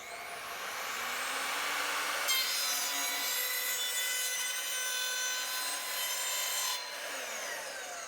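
An Evolution R255SMS 10-inch sliding miter saw cuts a piece of trim at a 45-degree angle. The blade spins up, bites through the trim in one steady, loud rasping cut, then spins down, with no talking.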